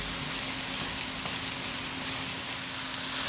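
Garlic sautéing in a pan makes a continuous, even sizzle with faint crackles, holding at a steady moderate level throughout, with no voices.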